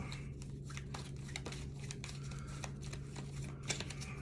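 Tarot cards are shuffled by hand in a quiet room, giving soft repeated riffling and papery crinkling over a low steady electrical hum.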